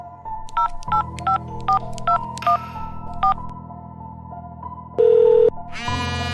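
Telephone keypad being dialed in a Hindi horror story scene: a quick run of about nine separate DTMF tone beeps, evenly paced and loud, followed by a longer steady tone and then a ringing sound, with no talking.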